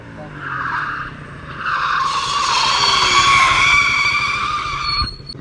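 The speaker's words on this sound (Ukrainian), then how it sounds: "Екстрене гальмування." A loud, drawn-out tire screech from a motorcycle's emergency braking, rising and holding for a few seconds before cutting off with a thud.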